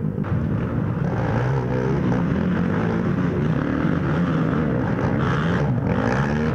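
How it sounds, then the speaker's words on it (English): Several ATV engines rev hard during a muddy GNCC cross-country race, a dense, continuous roar of overlapping engine noise with rising and falling revs, loud and close throughout. "Listen to how hard they're revving these machines out."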